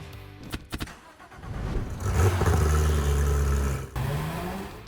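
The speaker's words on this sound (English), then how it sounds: "we're out driving on the mountain roads." A Porsche GT3 driving on mountain roads in the Smoky Mountains, its engine building from a low idle into a loud, steady sustained drone, heard up close with a brief dip near the end.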